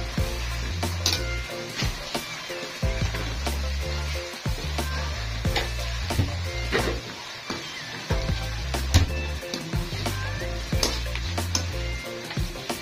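Onions frying in oil for an arvi gosht (taro and meat curry), sizzling steadily while a spoon stirs and scrapes through them in repeated bursts; close and continuous, with no talk.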